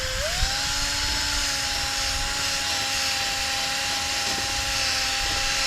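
Rotary power tool spinning a 500-grit sanding disc against a plastic car headlight lens, a steady high-pitched whine holding a constant tone throughout with a slight rise at the start, no talking.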